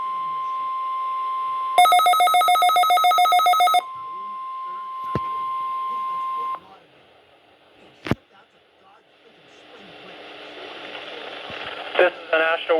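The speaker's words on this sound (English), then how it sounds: "We have just activated the public warning alarm tone as a test of our weather radio station warning alarm." NWS weather radio station alarm test: a steady 1 kHz tone, then a loud pulsing two-tone warning burst for about two seconds, the single tone again, sharp clicks, and then hissy static.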